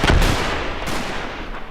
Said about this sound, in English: you throw the grenade in there, mate